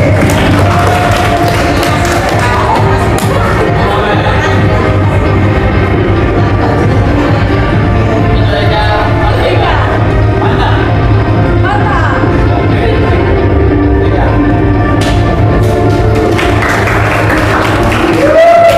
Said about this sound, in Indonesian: Tepuk tangan untuk 9B.